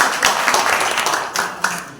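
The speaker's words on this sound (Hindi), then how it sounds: "इसके लिए जोरदार ताली बजाना चाहिए" Audience at a stage event claps in a brief burst, a few sharper claps standing out over a dense, fairly loud patter.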